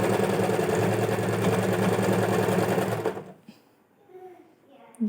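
A sewing machine stitches elastic into the back band of a body-fit skirt, running loud and steady for about three seconds before stopping, with quiet handling afterward.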